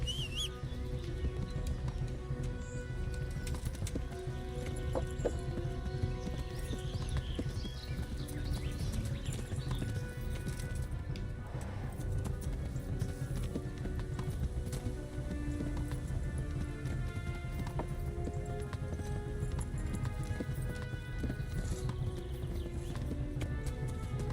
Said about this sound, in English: I am the worst, apparently, at riding a horse.